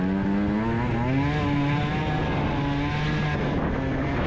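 A tuned Yamaha Aerox scooter with a Yasuni R exhaust revs hard and close, its loud buzzing engine note climbing and holding at high revs, then easing slightly, with no talking.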